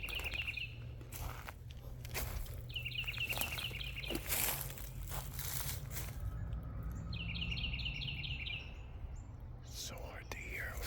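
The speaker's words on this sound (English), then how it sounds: "It's so hard to hear over these birds." Outdoor nature ambience with birds calling in repeated bursts of bright chirping trills, fairly close, over a low steady background rumble, while people whisper quietly.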